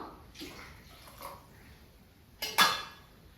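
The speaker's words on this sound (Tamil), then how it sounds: "தண்ணி சேர்த்துப்போம்" Water is poured into a cooking pot while making paruppu urundai kuzhambu, a Tamil lentil-ball curry, in a home kitchen. Soft faint splashing is followed by a louder short pour with a clink of the pot.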